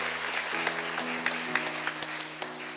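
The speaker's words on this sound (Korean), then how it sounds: "박수로 축복하겠습니다." Congregation applause at a Sunday church service, a steady wash of many hands clapping throughout with a low tonal hum of organ or keyboard underneath.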